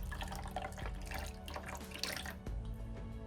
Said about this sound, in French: Donc je vais rincer mon capuchon.